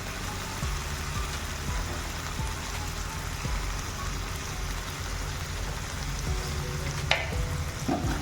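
Soya chilli with tomato ketchup and Schezwan chutney frying and being stirred in a hot pan, a dense, steady close sizzle with occasional spoon scrapes and a clink near the end, no voices.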